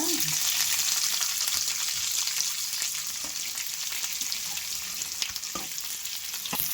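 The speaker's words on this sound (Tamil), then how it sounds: "நல்லா வதக்கணும் வெங்காயம்." Onions frying in a pan for poori masala, with chana dal, ginger and cashews, give a steady close sizzle, broad and constant, with occasional faint clicks of stirring.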